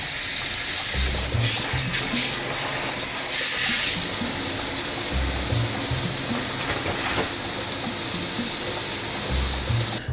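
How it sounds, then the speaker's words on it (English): A bathroom sink fills from the tap in a steady, loud rush of running water that holds for about ten seconds, with a few low thumps and no talking. "first we're gonna fill up this sink"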